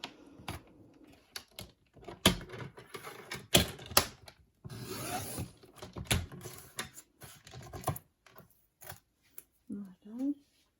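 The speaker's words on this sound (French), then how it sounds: "Donc, je prends mon massicot. Je vais couper une première bande." A paper trimmer (massicot) cuts a strip of paper with a series of sharp clicks and scraping slides at irregular intervals, fairly close and quiet, with short bursts of speech and handling in between.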